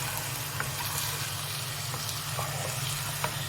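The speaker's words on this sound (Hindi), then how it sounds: "अभी इसमें आप डालेंगे पानी, थोड़ा सा पानी डालिएगा।" Steady, dense sizzle of mixed vegetables and potatoes frying in a pan as a little water is added, a constant hissing crackle with faint stirring clicks, close and even throughout with no talk.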